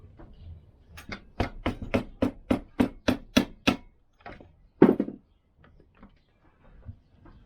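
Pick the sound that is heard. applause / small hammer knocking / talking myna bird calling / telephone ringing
small hammer knocking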